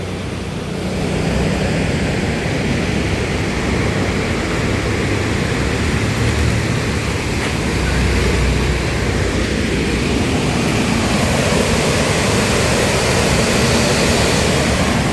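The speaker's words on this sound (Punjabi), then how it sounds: "ਆ ਪਾਣੀ ਆ ਜਿਹੜਾ ਸਤਲੁਜ ਚ ਛੱਡਿਆ ਹੋਇਆ ਹੈ" Flood water released through flood gates into the Sutlej river rushes past in a loud, unbroken roar. The heavy wash of noise holds steady throughout with no voices.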